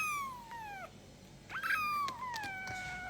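A house cat gives a series of drawn-out, falling meows, several in a row, close and fairly clear over a soft indoor background, with no talking.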